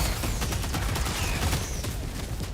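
An orbital strike lands in Helldivers 2, a dense barrage of loud overlapping booms and crackling blasts that keeps up without pause, close and overwhelming.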